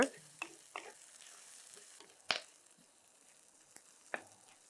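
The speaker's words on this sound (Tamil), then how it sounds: "அதோட ஒரு ரெண்டு நிமிஷம் வந்து லைட்டாக வதக்கிக்கோங்க" Onions sautéing with salt in a pan, a faint steady sizzle broken by a few stirring scrapes and clicks, close and fairly quiet.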